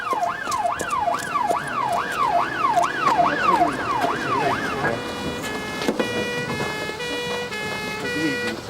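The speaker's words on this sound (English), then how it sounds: "There's an ambulance on its way" An ambulance siren wails in a rapid rising-and-falling cycle, loud and close for several seconds before shifting to steadier tones amid traffic noise.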